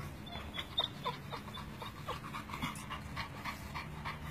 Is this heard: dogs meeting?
yes